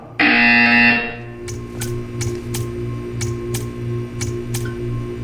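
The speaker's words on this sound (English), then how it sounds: "You will hear a buzzer. When you hear the buzzer, stare at the art." Repeating buzzer in a Portal 2 test chamber: one long, loud burst followed by a series of short, evenly spaced sharp pulses over a steady low hum.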